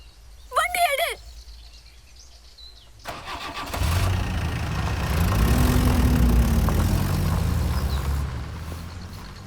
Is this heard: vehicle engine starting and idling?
yes